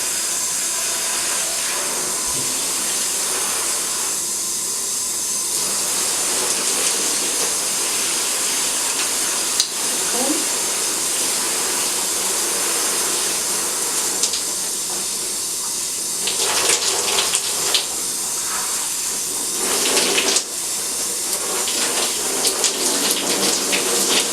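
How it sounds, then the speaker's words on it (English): Tap water runs steadily for the whole stretch as hair is detangled and combed under the stream: a constant close, loud hiss and splash with a few faint knocks and brief shifts in the flow. "I don't comb unless it's under running water"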